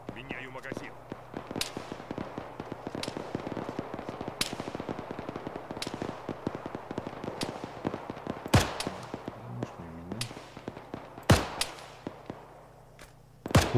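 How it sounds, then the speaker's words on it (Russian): Arma 3 firefight: rapid bursts of automatic gunfire crackle continuously at a moderate distance, punctuated by a few louder, nearer single shots, while players talk over the exchange. "Вот с кем они перестреливаются?"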